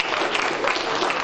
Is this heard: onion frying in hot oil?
no